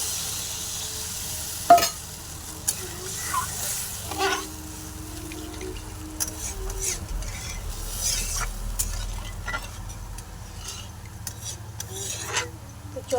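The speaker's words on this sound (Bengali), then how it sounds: "সেই বাটির এক বাটি জল দিয়ে দিচ্ছি" Water poured into frying mustard masala for a tilapia fish curry softens the sizzle to a quieter bubbling simmer, with scattered spoon knocks and stirring, close and fairly faint.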